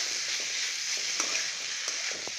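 A plantain stir-fry sizzles steadily in a pan while it is stirred, a close, even hiss with a few soft scraping taps.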